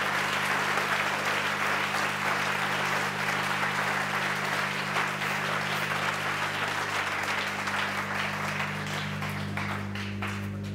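A church congregation claps steadily and densely throughout, with a steady low electrical hum running underneath.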